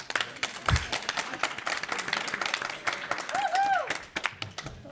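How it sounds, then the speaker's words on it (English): Spontaneous audience clapping at a venture capital panel event, uneven and fairly faint, with scattered claps and voices underneath. "Spontaneous applause"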